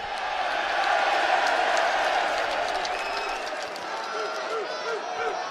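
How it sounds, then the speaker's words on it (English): A packed crowd at a UFC 304 press conference roars loudly throughout, with cheering and scattered clapping, while voices talk over the din. "The crowd's that loud"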